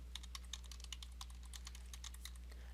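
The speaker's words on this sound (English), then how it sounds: "So you type in your email address." An email address being typed on a computer keyboard: quick, light key clicks in an irregular run, close and fairly faint over a steady low hum, no voices.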